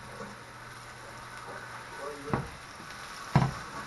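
Chicken pieces sizzle in vegetable oil in a hot pan, with a soft steady fry, two sharp scraping clatters and a voice speaking over it.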